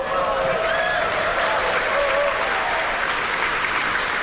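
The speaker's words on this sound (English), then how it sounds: "The crowd here reacting to that call out" A crowd at a SpaceX Starship launch breaks into sustained applause and cheering, dense and loud throughout, with a faint announcer voice underneath.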